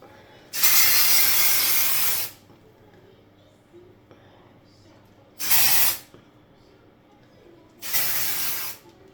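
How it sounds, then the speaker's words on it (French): Three bursts of dry shampoo hiss from an aerosol can onto the fringe of the hair, the first long at about two seconds, the next two shorter, all close and loud with quiet gaps between. "Je vais me mettre un petit peu de shampoing sec sur la planche."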